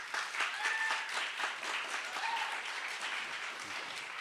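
Applause from the audience at a state poetry recitation finals fills the hall, a steady, moderately loud wash of many hands clapping that stays even for several seconds.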